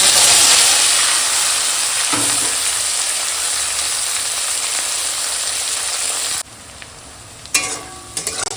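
Whole garam masala spices, a bay leaf and chopped onion fry in the oil left from frying potatoes, making a loud, steady sizzle. The sizzle suddenly drops to a quieter crackle with a few stirring clatters.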